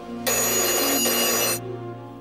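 Telephone bell ringing in one loud, continuous burst lasting just over a second, heard close and alone over a faint low hum.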